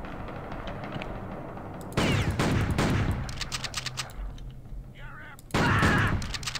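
Gunfire in the Western game Outlaws: two loud, dense bursts of shots, one around the two-second mark and another near the end, with quieter game noise between them.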